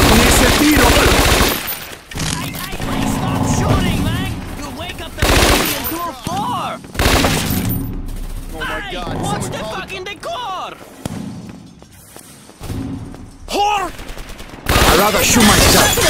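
Loud bursts of gunfire and rapid automatic shots ring out in the video game Scarface: The World is Yours, broken by short lulls and mixed with shouting character voices.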